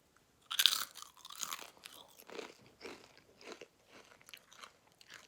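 Crunching and chewing of Lay's non-GMO, gluten-free potato chips, a sharp loud first bite followed by a series of softer rhythmic crunches, close up.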